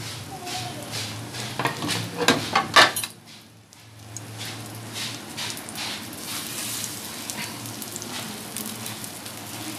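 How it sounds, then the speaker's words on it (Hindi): Chicken tikki patties frying in a pan over a low flame, a steady close sizzle with a burst of utensil scraping and clatter early on, then a brief lull before the soft sizzle resumes. "धीमी आंच पे इसको फ्राई करना है ताकि अंदर से भी सारा पक जाए"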